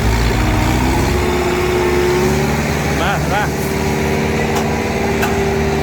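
A farm tractor's engine runs loudly up close while it is brought in to pull a stuck truck, a steady droning chug with voices calling out over it.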